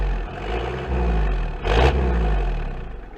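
Diesel Land Cruiser engine revving through a NASCAR-style side exhaust, a steady low rumble with a sharp louder blip midway before settling back to a rough idle.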